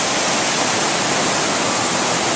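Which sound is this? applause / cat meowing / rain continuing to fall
rain continuing to fall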